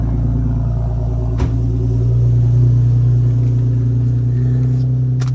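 Infiniti G37S idling with an ISR single exit exhaust, Y pipe, mid pipe and big muffler, giving a loud, steady deep rumble close by that swells slightly midway, with a couple of brief clicks and no talking.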